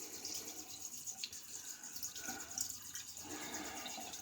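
Tap water running steadily to rinse a shaving razor, a faint, continuous hiss of flowing water with small splashes and no talk.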